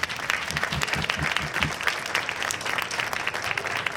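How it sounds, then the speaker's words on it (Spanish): An audience at a public education forum applauds, dense clapping from many hands that starts strong and holds steady throughout. "Y sí queremos dar un fuerte aplauso"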